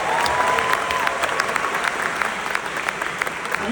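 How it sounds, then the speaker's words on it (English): A crowd at a Khabib Nurmagomedov event applauds a guest, loud dense clapping filling the room with scattered louder claps throughout. "Give him a round of applause"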